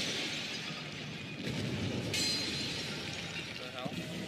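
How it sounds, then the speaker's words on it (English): Clay pots smash in the video game Uncharted 2 with sharp shattering crashes and scattered clinking debris over game background noise, while players talk. "Oh, pot smashing out."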